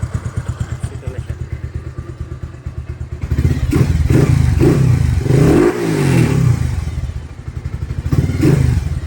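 A Bajaj Rouser 180 motorcycle engine fitted with an NS200 carburetor idles with a steady close putter, then revs up in several loud bursts before settling back to idle.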